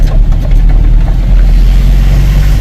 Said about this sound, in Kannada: ಲೈನಿಗೆ ಹೋಗ್ತಾ ಇದ್ದೇವೆ ಗಾಡಿಗಳು, ಒಂದ್ರಿಂದ ಒಂದು